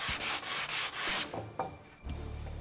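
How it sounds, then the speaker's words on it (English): Sandpaper locked into a contoured shaping tool rubs against wood in quick, harsh back-and-forth strokes, loud and close, slowing into a few softer scrapes near the end. "with your sandpaper locked into place, you can get into all those tight crevices"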